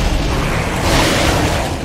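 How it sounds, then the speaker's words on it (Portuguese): A necromorph bursts apart when shot in Dead Space 2, a loud, dense, roaring blast that holds strong for about two seconds. "O necromorfo explode quando você acerta ele."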